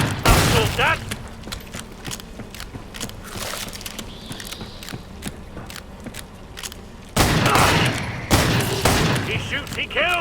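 Rapid gunfire rattles through a Killing Floor 2 fight, with loud clustered shots and heavy booms arriving in irregular bursts, the loudest volley near the end, under game chatter.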